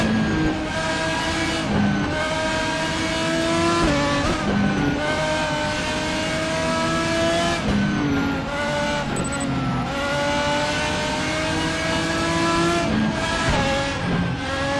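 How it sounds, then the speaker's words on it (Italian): Race car engine in the RaceRoom racing game at Suzuka, a loud, steady roar that drops briefly at each gear shift, with sharp backfire pops between gears. "Ma lo sentite come spara tra una marcia e l'altra? Pow!"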